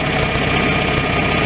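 A 1967 John Deere 3020 gas tractor engine idles close and loud, a steady rough mechanical rumble with no breaks or talking.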